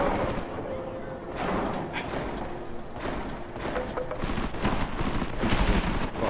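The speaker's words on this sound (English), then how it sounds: "Gunfire going in there" Bursts of gunfire and heavy blasts in Deus Ex: Mankind Divided, a dense, rumbling barrage of shots and impacts continuing steadily throughout at moderate loudness.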